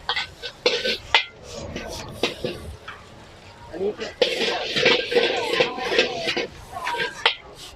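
A metal spatula clangs and scrapes nonstop in a pan as large batches of rice are stir-fried at a busy Chonburi market stall. Loud, dense and continuous, with someone talking over it.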